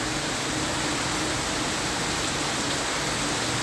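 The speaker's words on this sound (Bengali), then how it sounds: "এই যে এই যে বৃষ্টি দেখছেন কিভাবে বৃষ্টি পড়তেছে," Heavy monsoon rain pours down in a sudden downpour, a dense, unbroken hiss of falling water that stays loud and even throughout, with no voices.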